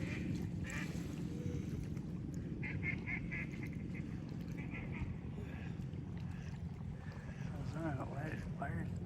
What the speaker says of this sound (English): why are ducks making so much noise?